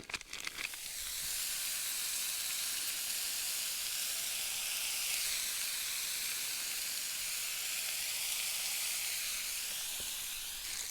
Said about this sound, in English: We're going to get it hot and then we'll season it with some bacon.